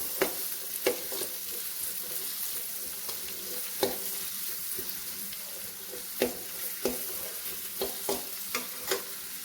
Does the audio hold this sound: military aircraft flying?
no